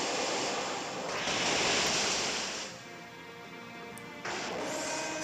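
Waterfall attack effect from Pokémon Omega Ruby: a rushing, crashing surge of water that swells, fades, then bursts again near the end, loud and without talk.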